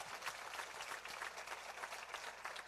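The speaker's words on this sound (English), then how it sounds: "A round of applause for that, for everyone that put the work together." Audience applause at a film festival awards ceremony, steady dense clapping from a large crowd, fairly soft and even throughout without voices.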